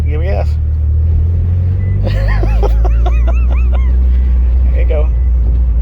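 A Mitsubishi Evo with a manual gearbox pulls away after the clutch is released, its engine a loud, steady low rumble throughout while people talk over it.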